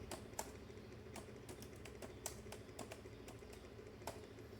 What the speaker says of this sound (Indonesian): Lalu kita ketik lagi perintahnya seperti ini.